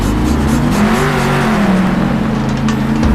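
Monster Mutt monster truck roaring steadily and loudly through a freestyle run at a Monster Jam event in Anaheim, its engine droning with shifting pitch and rumbling crowd-filled arena noise behind it.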